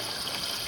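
Water pours steadily into an overflowing toilet, a brief continuous rushing trickle heard close up.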